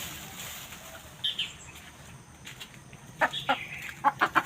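Backyard chickens cluck in short, scattered bursts, a couple of soft calls early then a quicker run of sharp clucks near the end, fairly close against a quiet outdoor background.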